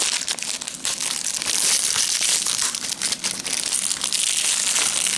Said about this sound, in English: I was saying I'm having trouble getting through the plastic.